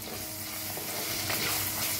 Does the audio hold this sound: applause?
no